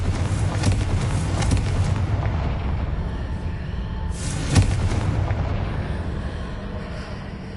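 A booming magical blast from the Confringo explosion spell in Hogwarts Legacy, a sharp burst over a steady, dense rumble of game sound that carries on through the clip.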